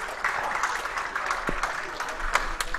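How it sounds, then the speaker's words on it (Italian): Spectators at a beach volleyball tournament applaud at the end of the match, a quiet, distant patter of clapping with a voice talking over it. "Sento degli applausi e finita la partita"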